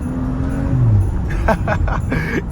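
A BMW F30 accelerates hard with its exhaust popping: a rising engine drone, then a quick series of loud crackling pops close to the mic.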